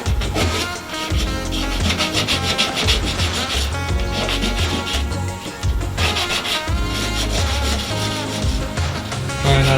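Continuous abrasive scuffing of metal bodywork with sandpaper before fender installation, a loud, dense rasping that runs almost without pause, briefly easing midway before resuming.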